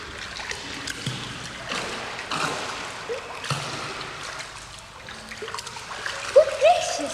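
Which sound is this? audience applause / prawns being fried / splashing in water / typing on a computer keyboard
splashing in water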